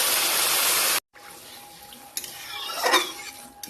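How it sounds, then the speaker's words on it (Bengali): A little water is poured into masoor lentils in a wok, first a loud broad hiss of sizzling, then after a short gap a softer splashing pour and stirring scrape building toward the end. "আমি সামান্য পরিমাণ পানি দিয়ে দিব,"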